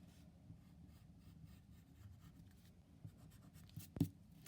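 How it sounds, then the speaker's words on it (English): A pencil eraser rubs back and forth over paper to clean up extra lines in a one-point perspective drawing, making soft, close scrubbing strokes that end in a sharper tap. "Erase anything extra."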